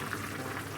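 Steady bubbling of a pot of water with beef at a rolling boil, a continuous soft hiss and gurgle with no voices.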